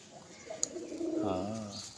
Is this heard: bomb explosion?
no